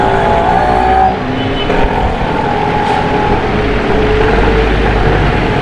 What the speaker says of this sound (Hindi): और यहाँ पर ट्रैफिक का रश देखें